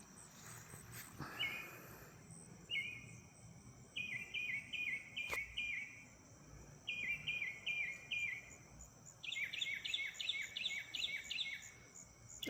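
Birds call outdoors in the middle of the night, repeated bursts of rapid high chirping trills coming in clusters over a faint steady insect drone in an otherwise quiet yard.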